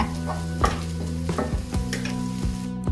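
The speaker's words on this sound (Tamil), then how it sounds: "கிளறி கொண்டு இருக்கணும்." Egg and Savoy cabbage stirred in a frying pan, with a continuous sizzle and repeated scraping clinks of a spatula against the pan, close and clear with no voices.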